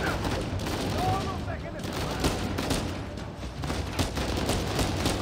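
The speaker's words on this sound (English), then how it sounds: "The recoil on this gun is terrible." Sustained gunfire from a hard-recoiling gun in the video game Uncharted 4: A Thief's End, a dense, continuous fusillade of rapid shots at steady loudness across the whole stretch, with no talk over it.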